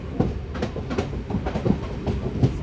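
A MEMU express train pulls into Palakollu station with a close, steady clickety-clack of wheels over rail joints, a continuous rumbling rattle with no voices.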